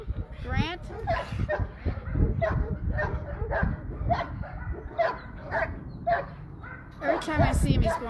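Young, hyper puppy at a humane society event yipping, barking and whimpering in short repeated bursts, fairly close, mixed with people talking in the background.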